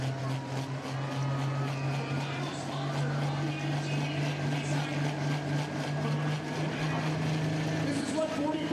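A 4,500-horsepower Case IH-class tractor pull machine roars steadily and loud at an outdoor pulling event, a sustained low engine drone with crowd and announcer voices over it.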